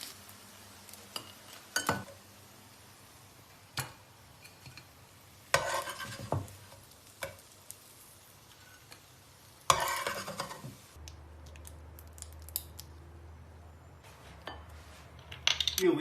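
Fried potatoes and eggs are stirred in a pan with sporadic scraping strokes and brief utensil clinks against the metal, scattered over a quiet, faintly humming background, with short pauses between movements.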